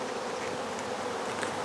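Honeybees buzz in a dense, steady drone at an open hive during a nucleus transfer to a hive body in bad weather, the swarm close and loud.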